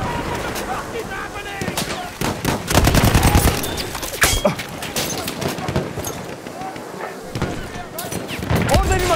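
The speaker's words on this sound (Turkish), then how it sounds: "Orada bir makinalı tüfek var." Dense bursts of machine gun fire and other gunshots in the World War I shooter game Battlefield 1, loud and close, with rapid repeated cracks and heavier booms throughout, with voices heard at times.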